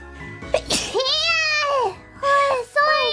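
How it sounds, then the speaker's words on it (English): A single sharp, loud sneeze right up close, followed by a high childlike voice speaking in bursts. "I did not mean to sneeze on your order."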